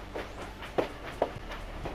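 British Pendolino electric train, soft rhythmic wheel clicks over rail joints with a low rumbling hum, two sharper clacks standing out, fairly faint and steady.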